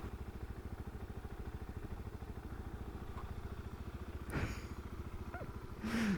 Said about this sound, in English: I know that I'm shifting through the gears quickly here and I could rev it out more